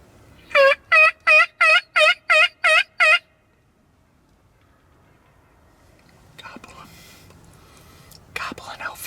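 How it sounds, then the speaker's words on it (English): Wild turkey gobbling out front: a rapid, loud burst of about eight throaty gobble pulses, followed by quiet and then a soft whisper of talk and rustling. "Gobbling out front."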